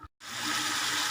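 Water pours steadily into a cooking pot of suvarotti (spleen) chukka after a brief silent gap, a close, continuous rushing splash.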